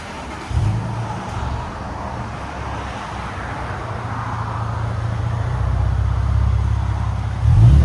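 A 2022 Toyota Tundra with a 3.4L V6 and Borla ProXS exhaust idles with a steady low rumble close by, holding constant throughout with a slight swell toward the end.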